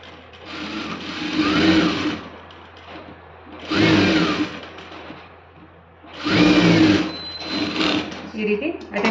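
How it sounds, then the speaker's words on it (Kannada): A sewing machine stitches the pocket on a school uniform skirt in three runs of steady, close whirring with short pauses between them, while a voice speaks over it. "ಈಗ ಪಾಕೆಟ್ ಸ್ಟಿಚ್ ಮಾಡೋಣ"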